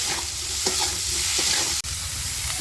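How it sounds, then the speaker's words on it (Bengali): Steady hiss of figs frying in a pan, with a few soft scraping stirs and a brief clatter near the end. "দিয়ে একটু নাড়াচাড়া করে নেবে"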